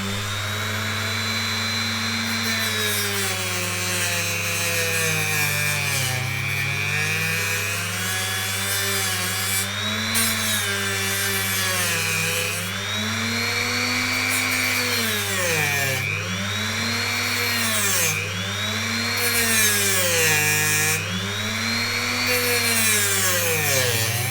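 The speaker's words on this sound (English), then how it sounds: "So let's just fire up the Dremel and cut the plastic off." Dremel rotary tool cutting the plastic cap off a Foxeer Micro Lollipop FPV antenna: a loud, close high-speed whine that repeatedly sags and recovers in pitch as the bit bites into plastic, continuous with no talk.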